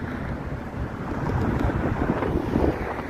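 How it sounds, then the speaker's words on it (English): Constant low rumbling buffeting of cold wind hitting a microphone on a Toronto street, loud and unbroken throughout. "it's cold and windy"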